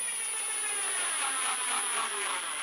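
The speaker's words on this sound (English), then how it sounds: "I'm just going to drive the screw in right where it is" A power drill driving a short screw into a dowel length cutting jig: a continuous close, loud whirring motor whine with a steady, even pitch from start to finish.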